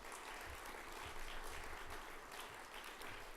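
Audience at a green tourism conference awards ceremony clapping for a highly commended schooner tour company, a steady, continuous round of applause at low volume, unbroken across the whole stretch.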